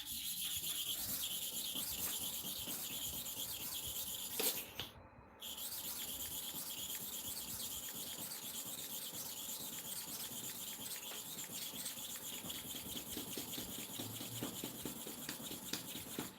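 A worn, rusty hair clipper blade is rubbed back and forth on a sharpening stone, giving a continuous fast gritty rasp close by, faint overall, with a brief pause near the middle and no talking.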